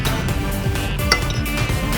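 Samyang Mala spicy instant noodles stirred in a bowl, repeated clinks and scrapes of utensil against the dish, close and fairly loud, with no one talking.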